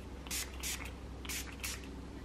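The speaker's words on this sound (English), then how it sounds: "so I'm just gonna go and spray" Four quick bursts of alcohol from a pump spray bottle, hissing in two pairs with brief pauses between, close by and fairly quiet.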